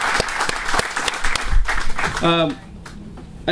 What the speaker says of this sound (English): Give Mark Kowinski a big round of applause